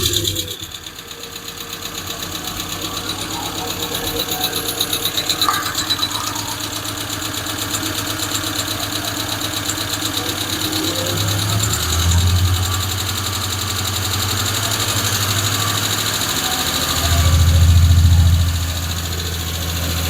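A Hemi engine in a Plymouth Duster running at a high idle, a loud steady rapid mechanical drone with faint ticking, swelling slightly in revs near the end.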